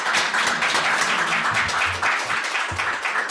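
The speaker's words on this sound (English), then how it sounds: "I think she deserves a big round of applause." Audience applause after a speaker's talk, a dense steady wash of many hands clapping throughout, fairly loud and unbroken, with a few low thumps underneath.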